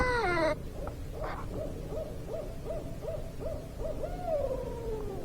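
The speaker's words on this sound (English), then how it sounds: "Yeah, owl calls." An owl hoots in snowy woods by a lake, a series of about eight short, evenly spaced hoots from up in a tree, clear but moderately distant over a quiet background, after a brief higher sound at the start.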